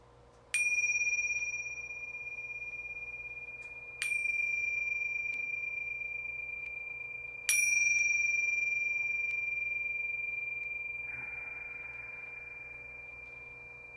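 Three closing bell rings at the end of a meditation session, each a bright ding with a sustained, slowly fading ring, struck about every three to four seconds, close and clear, with no talk over them.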